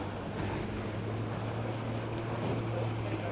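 Steady rushing wind and sloshing water around a small sailing boat, a constant close roar without pauses.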